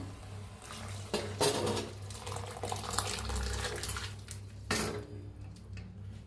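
Masala and sprouted moth beans are stirred and roasted in a pan, giving a steady close sizzle with scraping strokes of the spoon and a few louder stirring bursts, with no talking.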